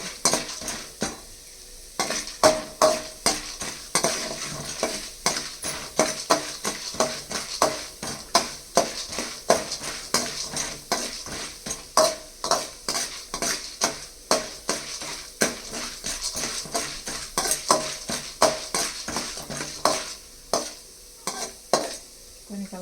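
Mustard seeds, urad dal and pepper fried in a pan for curd rice, with a spatula scraping the metal in a steady, rapid rhythm of sharp strokes over a light sizzle for the whole stretch.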